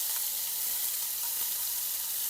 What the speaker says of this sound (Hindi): फिर मैं इसको फ्राई कर रही हूँ अच्छे से